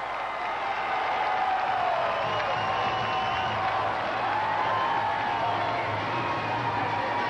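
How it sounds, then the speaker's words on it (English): Hometown crowd at an NCAA gymnastics championship in Georgia roars in approval, a continuous loud cheer with applause, whoops and high shouting voices carrying steadily for several seconds. "Big roar of approval here from the hometown crowd"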